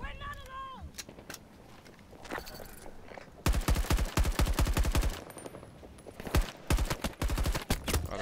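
Turret fire in Battlefield 2042: after a few scattered shots, long bursts of rapid automatic gunfire go off in quick succession, loud and close.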